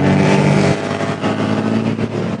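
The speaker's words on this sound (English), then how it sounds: "Nice sound effects from the bus, about 2 inches away." A loud bus engine rumbles very close, about two inches away, in Sri Lanka, a steady heavy drone that shifts slightly in pitch partway through.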